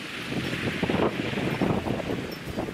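Strong wind gusts outdoors at a home with a solar and wind power setup, roaring and buffeting the microphone in uneven surges throughout, loud and close.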